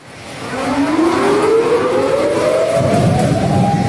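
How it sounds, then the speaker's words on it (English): A loud flood warning siren winds slowly upward in pitch and holds a steady wail over Tokyo, with a low rumble underneath and no voices. "Flood sirens rang out over Tokyo on the evening of July 10th"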